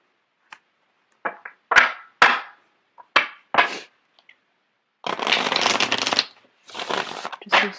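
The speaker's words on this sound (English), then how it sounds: "I'm going to get the cards shuffled out" Tarot cards are shuffled close by in a string of short papery riffles, then two longer, denser shuffling bursts near the end, with no talking.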